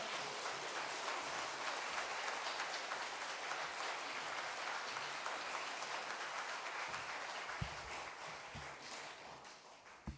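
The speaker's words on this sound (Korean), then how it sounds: "뜨거운 박수로 우리 축복하겠습니다" A church congregation at a Sunday morning worship service claps together in steady, even applause, filling the room softly and continuously before a few louder isolated claps near the end.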